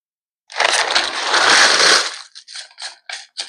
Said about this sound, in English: I'm going to coat the bottom of this pan with some Doritos.